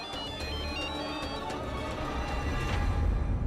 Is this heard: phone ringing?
yes